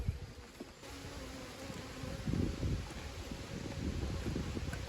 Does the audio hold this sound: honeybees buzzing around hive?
yes